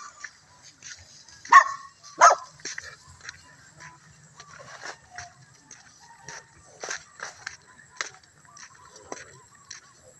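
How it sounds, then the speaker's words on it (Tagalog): Several sharp dog barks and yips ring out at a moderate distance beside a rice paddy, loudest early on, followed by scattered smaller yaps and background noise. "Nako, guys, may aso."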